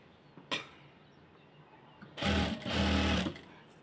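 A sewing machine stitches lace onto the hem of a salwar, running in a loud, fast whir for about a second after a brief click, with a short pause midway.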